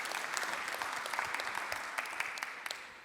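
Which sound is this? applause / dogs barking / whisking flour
applause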